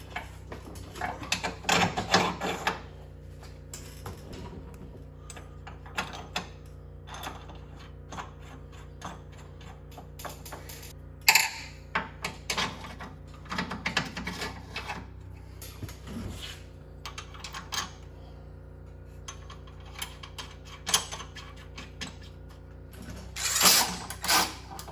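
Steering bolts going into a Mustang steering assembly during a fix for steering slop, with scattered metallic clicks, ticks and clanks from tools and hardware, louder bursts near the start, middle and end over a steady low hum.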